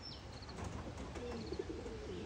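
Young racing pigeons coo softly in low, rolling calls, with a few faint high chirps over steady windy background noise.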